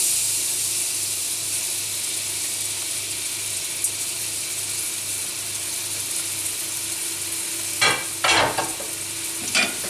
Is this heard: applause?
no